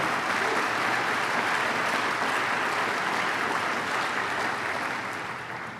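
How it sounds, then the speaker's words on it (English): An audience of college presidents and officials applauds Lieutenant Governor Bob Duffy, dense steady clapping that holds and then begins to fade toward the end. "Let's give him a round of applause, Lieutenant Governor Bob Duffy."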